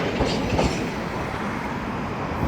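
A freight rack train switching cars rumbles and clatters steadily in the distance, a sustained rolling rail noise with faint clicks, no voices.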